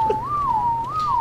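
A person whistles a wavering melodic tune alone and close, the pitch gliding slowly up and down in a steady line, heard during play of ARK: Survival Evolved.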